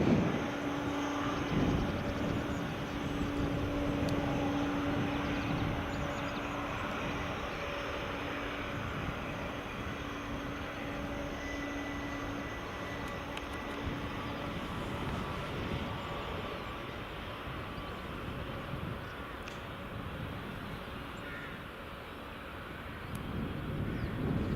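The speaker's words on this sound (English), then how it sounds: "Gonna have the Delta and the JetBlue taxiing in on the into stand at the same time." Jet airliners, a Delta and a JetBlue, taxi at Edinburgh Airport, their engines a steady broad roar with a sustained whine, continuous and moderately distant, buffeted by some wind noise.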